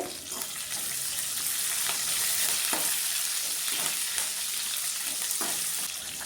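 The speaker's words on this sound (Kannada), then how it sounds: "ಇದನ್ನು ಚೆನ್ನಾಗಿ ಒಂದು ನಿಮಿಷ ಹಾಗೆಯೇ ಫ್ರೈ ಮಾಡ್ಕೊಳ್ಬೇಕಾಗುತ್ತೆ" Garlic, ginger and curry leaves fry in hot oil for idli sambar, giving a loud, continuous close sizzle with soft stirring scrapes throughout and no voices.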